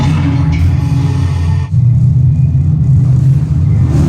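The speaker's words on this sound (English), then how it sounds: "You're riding aboard the Mark V Stellarator, the latest in space elevator design and technology." Steady low rumble of the Mark V Stellarator space elevator ride at Space 220 in Epcot, a loud continuous drone with a brief dip partway through, no talking.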